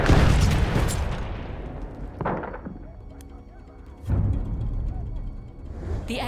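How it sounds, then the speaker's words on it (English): Artillery fire in the Battlefield 1 video game: heavy booming blasts, one loud at the start, then a softer thud and a later strong hit, each trailing off into a long rumbling decay. "Artillery."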